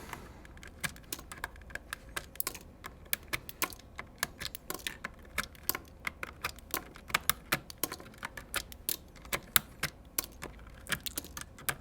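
Heavy-handed typing on a KC84 mechanical keyboard fitted with stock black switches: a steady, irregular stream of crisp, close key clacks with no voices.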